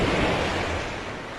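Ocean waves break and wash up on a beach, a steady, loud broadband surf roar that fades slightly over a second and a half. No voices are heard.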